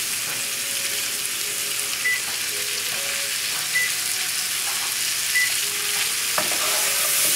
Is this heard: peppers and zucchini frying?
yes